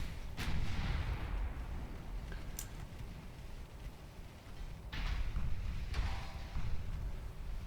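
Warship main guns boom in a naval combat game, Ultimate Admiral Dreadnoughts, with a few heavy, distant-sounding blasts spaced apart over a low rumbling background.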